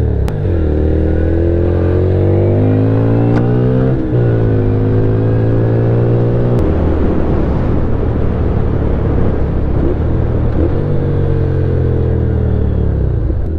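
An Italjet Buccaneer 250i V-twin motorcycle engine revs up through several gears, the deep throbbing note climbing and dropping at each shift, loud and close throughout.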